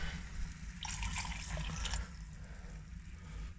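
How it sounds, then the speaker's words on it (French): Fresh water poured from a container into a glass or pot in a rustic kitchen, a steady bright splashing pour lasting about a second, close and moderately loud, then fading to quiet room noise. "je rajoute un verre d'eau fraîche et un deuxième."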